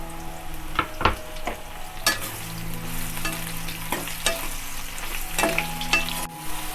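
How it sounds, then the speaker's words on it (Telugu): Mushrooms frying lightly in oil for a mushroom masala gravy curry, a steady close sizzle with scattered pops and stirring clatter throughout, no talking. "ఇప్పుడు ఇదే ఆయిల్లో మష్రూమ్స్ వేసి లైట్గా వేయించుకోవాలి."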